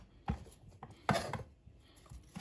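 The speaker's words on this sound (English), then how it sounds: "Just gonna thinly slice them as well." A knife thinly slices peeled carrots for a stir fry, giving three separate crisp chops against a board with quiet gaps between them, close and clear with no talking.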